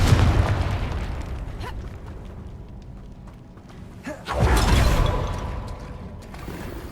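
The Confringo explosive spell goes off in Hogwarts Legacy as a loud, booming burst that rolls off, followed a few seconds later by a second heavy blast that fades away.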